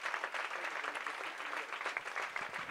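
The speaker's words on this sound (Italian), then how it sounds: "applausi tutti per Zero Calcare" A book signing event audience in Florence applauds, a short burst of lively, dense clapping from a crowd at moderate distance, with no speech over it.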